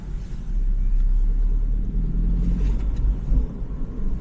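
A BMW G20 330 with an aftermarket intake rumbles loudly and steadily nearby, a deep throaty drone with slight rises in revs, no talking.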